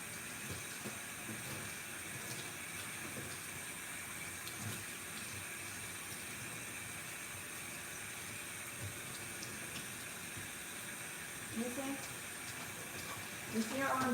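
Running water rinses a Maltese dog during a grooming session, a steady hissing spray that continues without a break and swells slightly near the end.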